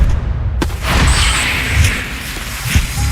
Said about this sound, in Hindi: ये लक्ष्मी बॉम्ब है, इसे इस तरह नहीं जलाते, इस तरह जलाते हैं।